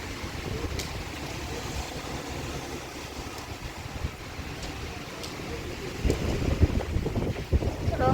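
Gusty wind blows and buffets the microphone with a rough, rumbling roar, growing stronger near the end.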